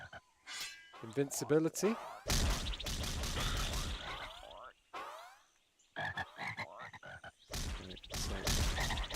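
Frogs croak repeatedly in the Putty Squad video game, mixed with game effects, whooshes and thwacks, and a voice talks over them in places.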